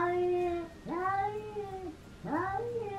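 A Siamese cat outside lets out a few drawn-out, wavering yowls, each rising and then sliding down in pitch. The calls come close together, with short gaps between them, and sound moderately near.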